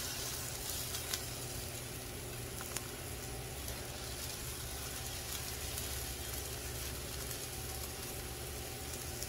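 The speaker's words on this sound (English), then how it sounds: "You want to get a good sear on these burgers" Freshly ground steak burgers sear on a hot griddle, giving a steady, loud, continuous sizzle and crackle that lasts throughout with no talking.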